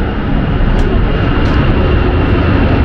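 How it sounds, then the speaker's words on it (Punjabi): An airplane roars loudly and steadily as it takes off from an airport near Hong Kong, a dense, unbroken engine rush heard close and without any voices. "ਉਹ ਚੜ ਗਿਆ ਜਹਾਜ਼ ਬਈ ਓਏ"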